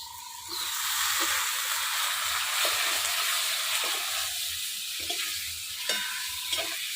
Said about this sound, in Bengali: বেগুনও একটু ভাজে নেবো